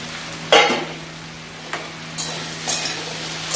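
Potatoes and vegetable stalks fry in a pan, a soft steady sizzle broken by a few sharp bursts of stirring and spattering, close and alone with no voices.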